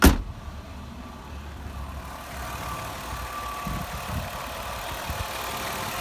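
A 2002 Mazda Tribute with a 3.0-liter engine idles in park under an open hood, a steady low rumble recorded close up after a sharp thump at the start, with a slight uneven pulsing in the idle.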